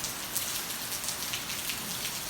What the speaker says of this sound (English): He wants a video of rain